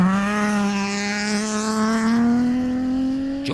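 A Subaru rally car on flowing, high-commitment gravel stage roads, its engine note held high and climbing steadily as it accelerates, loud and close with no voices.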